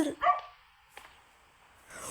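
A single short dog bark near the start, followed by quiet room tone with a faint knock midway and soft noise at the end.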